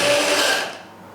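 Kitchen blender whizzing food, a short loud motor whir lasting under a second that quickly winds down and fades out.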